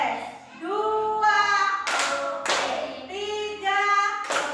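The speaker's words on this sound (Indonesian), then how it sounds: "Bu Leli minta tepuk semangatnya" A group claps together in short, rhythmic bursts of 'tepuk semangat' during a classroom coaching session, sharp and close, alternating with voices chanting and counting.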